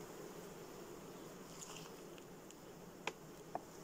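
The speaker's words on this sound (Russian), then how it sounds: "Ага, тут пчелка." Bees buzz faintly around a beehive being split and recombined during swarming, a low, steady hum with a couple of sharp ticks near the end.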